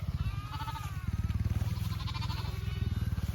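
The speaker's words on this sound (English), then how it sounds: "See if I can get up here close to this ewes. See what the boogers are eating." Sheep ewes bleat in a pasture, with a wavering close bleat and further calls over a rapid pulsing rumble, and someone talks briefly in between.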